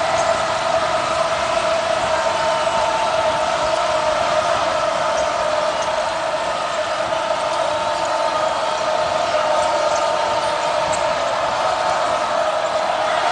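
Steady, dense roar of a basketball crowd cheering inside an arena during a Washington versus Stanford college game, an unbroken wash of noise held at constant loudness with no talk on top.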